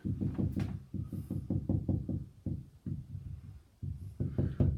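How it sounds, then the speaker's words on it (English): A hand bangs repeatedly on an art studio wall that backs onto a garage door, giving a rapid series of deep, close thumps in uneven bursts with short pauses between them. "which is when I bang this wall here with my hand"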